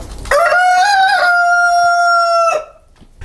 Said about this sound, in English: it doesn't matter if we get roosters crowing